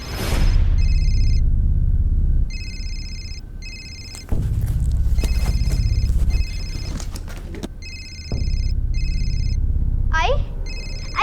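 Mobile phone ringing in repeated electronic tone bursts over a low rumble, with a brief voice near the end.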